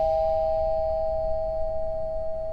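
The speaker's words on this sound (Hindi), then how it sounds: "डोरबेल बज रही, सुनाई नहीं दे रही?" A steady electronic doorbell tone holds for a couple of seconds over a low background hum, fairly loud and unbroken.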